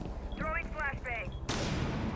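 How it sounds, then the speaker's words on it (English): A flashbang grenade goes off in a tactical shooter match, a sudden loud burst of hissing noise that cuts in after a few seconds of electronic chirps and game ambience. "Throwing flashbang."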